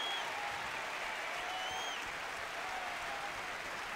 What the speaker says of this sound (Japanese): どこからか 歓声が